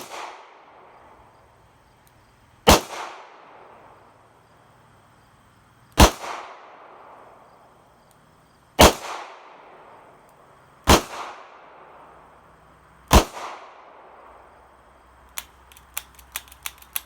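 Five loud, sharp shots from a Ruger LCR revolver in .22 WMR at a range, spaced a few seconds apart, each ringing out briefly, followed by a run of quick faint metallic clicks.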